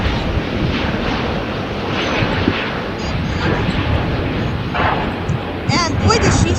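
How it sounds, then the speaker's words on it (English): A Qatar Airways Airbus A350-1041 departing LAX gives off a loud, broad engine roar with rushing jet noise, steady across the whole stretch, with voices talking over it. "heading back to Doha on an Airbus A350-1041"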